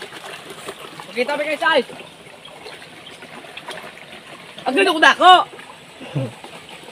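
A river in Negros Occidental province runs with a steady, soft wash of flowing water, continuous in the background while people chat over it in short bursts.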